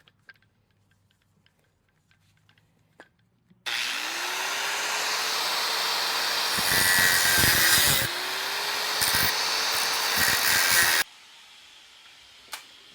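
Cutting a transmission cooler hose at a marked line with a power tool, a steady loud whirring and grinding that starts abruptly, rises in pitch and intensity midway with rough scraping bursts, then cuts off, leaving quiet.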